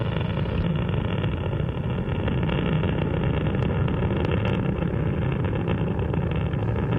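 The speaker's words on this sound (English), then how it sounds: "Columbia's three main engines is now throttled back to 2/3 throttle to prepare the spacecraft to pass through the area of maximum air pressure and go supersonic." Space Shuttle Columbia's three main engines roaring during launch, a steady, loud, unbroken broadband rumble that holds constant throughout.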